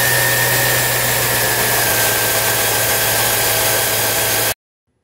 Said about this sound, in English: start the engine to make sure everything works